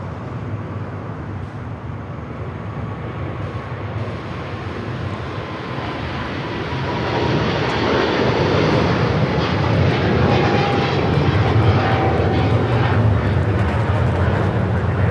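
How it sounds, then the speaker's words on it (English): A Philippine Airlines Boeing 777-300ER jet taking off from Los Angeles LAX, a broad roaring engine rumble that swells louder partway through and holds steady, heard from some distance with no voices. "This is Philippine Airlines 113 taking off to Manila on the 777-300ER."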